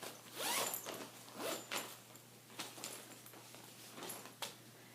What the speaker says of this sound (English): let's open up the compression cube. And it's got 2 zippers, one to compress it, one just for opening.